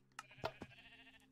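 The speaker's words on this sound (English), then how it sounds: "That's a sheep." A sheep in the video game Minecraft bleats a few short times, faint and close, with no talk over it.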